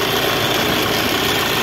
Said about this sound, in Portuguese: Só esse alternador que tá avacalhando essa zoada dele aí